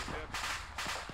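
Gunfire in a ShackTac military video game at night rings out as two sharp, loud bursts in quick succession within about a second.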